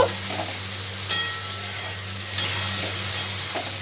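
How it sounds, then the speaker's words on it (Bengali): Pan lid lifted off cooking vegetables and the mix stirred again: a few distinct clinks of metal and glass over a soft sizzle and a steady low hum. "ঢাকনাটা একটু খুলবো, আবার একটু পুনরায় নাড়াচাড়া করব।"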